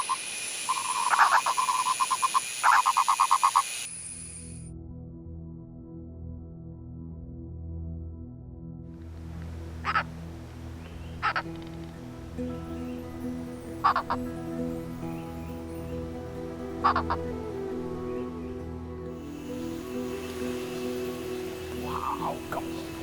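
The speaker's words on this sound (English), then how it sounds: "We finally stumbled upon what sounds like an army of purple frogs on its way up." Purple frogs call in a dense chorus of low, steady croaks, with scattered sharper calls rising above it and a brief loud burst near the start.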